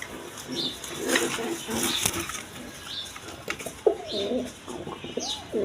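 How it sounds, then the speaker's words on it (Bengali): A pair of large Giribaz high-flying pigeons coo repeatedly at a farm, with a black-tailed male and a khaki-necked female. The soft, rolling coos come in close succession over a steady background hum. "এখানে এক পেয়ার হাই ফিলিং গিরিবাস কবুতর আছে"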